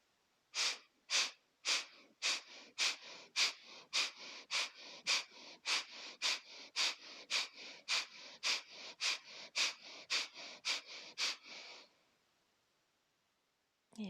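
Deep rhythmic breathing during a slimming yoga session for strengthening the abdominal core, about twenty quick, forceful breaths in a steady even pulse, close and clear, stopping abruptly near the end with no talking.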